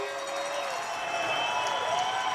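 A junior hockey playoff arena crowd in Game 7 between the London Nationals and St. Marys Lincolns roars steadily on its feet, a sustained wash of cheering with whistles and shouts throughout.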